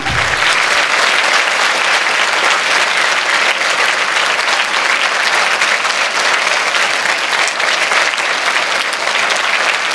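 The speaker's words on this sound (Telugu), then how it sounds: "చప్పట్లు కొట్టి తీరాలంతే." A large student audience at a college motivational speech claps loudly and continuously in dense, sustained applause.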